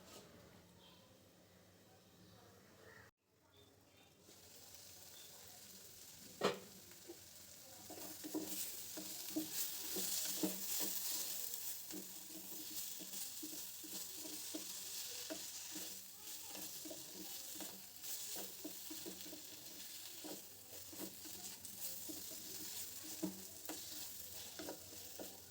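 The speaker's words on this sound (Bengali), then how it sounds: "ভাজতে ভাজতে টমেটোটাও দিয়ে দিলাম।" Tomato sizzles and fries steadily in a pan of rohu fish curry with broccoli, a soft, constant crackle broken by occasional stirring clatter.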